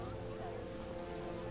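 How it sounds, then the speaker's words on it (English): Rain pours steadily in The Witcher video game, a constant hiss of falling water with a low background hum. "It rains and it pours."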